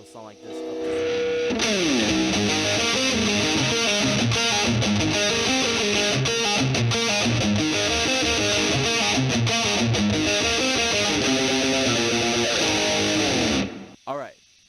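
Heavily distorted electric guitar plays a dense, driving riff, loud and sustained throughout, opening with a brief bend and cutting off abruptly near the end.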